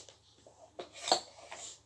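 Small metal baby fork and spoon clinking together as they are handled, a few light taps and one brighter clink, close and quiet with no talk.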